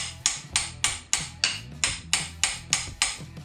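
A hammer strikes a wrench on an LS engine crankshaft nine times in a steady, evenly spaced rhythm, each close metallic clang ringing briefly before the next blow.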